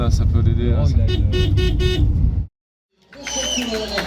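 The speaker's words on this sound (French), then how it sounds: "Allez, mais Laurent, un peu de klaxon là" Loud, sustained car horn blasts ring out at a roadside cycling race on the Routes du Bourbonnais, then cut off abruptly; after a pause, voices and crowd noise pick up.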